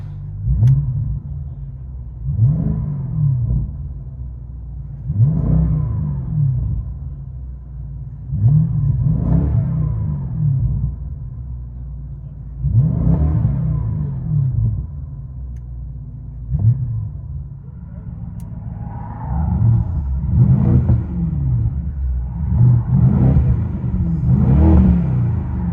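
BMW 650i xDrive convertible with a 4.4-litre V8, heard from inside the cabin: repeated rev blips roughly every three to four seconds, each a deep rumbling surge that fades, growing busier and louder toward the end.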